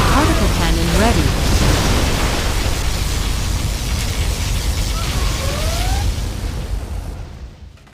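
A particle cannon superweapon blasts in Command & Conquer Generals Zero Hour, a loud, sustained roaring rumble of broadband noise with brief whining tones, slowly fading out at the end.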